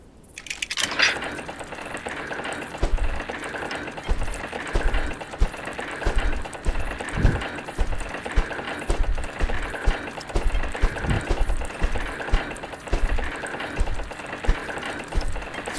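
A revolving spiked blade machine is assembled in The House of da Vinci puzzle game, giving off a steady, rapid mechanical clatter of whirring and ticking parts that repeats evenly throughout with no voices over it.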